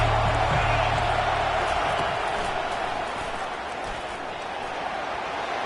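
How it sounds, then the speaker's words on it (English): A college football stadium crowd roars steadily, a dense, loud wall of noise that eases slightly after the first few seconds. "This crowd trying to make life miserable for this offense."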